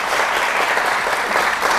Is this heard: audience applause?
yes